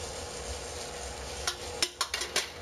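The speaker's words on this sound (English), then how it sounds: "We got one more piece of chicken to sear off." Chicken pieces sear in a pan for chicken Marsala, giving a steady, moderate sizzle with a few sharp utensil clicks and scrapes near the end, no voices.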